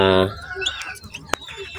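Ten-day-old chicks give a few faint, thin peeps after a short tonal voice at the start, with scattered high chirps spread across the rest of the moment.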